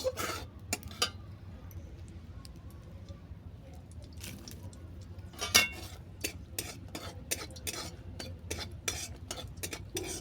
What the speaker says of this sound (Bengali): লঙ্কাগুলো ফাটিয়ে দিচ্ছি লঙ্কাগুলোকে ভেজে নেব